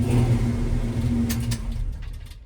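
A Dodge Li'l Red Express truck with a new engine idles up with the air conditioning on max: a steady, loud engine hum and rumble that eases off near the end.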